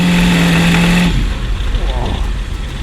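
A homebuilt custom motorbike powered by a Chevy V8 roars loudly up close, with a deep, continuous rumble of engine and exhaust filling the whole stretch.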